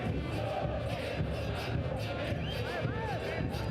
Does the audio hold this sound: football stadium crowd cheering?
yes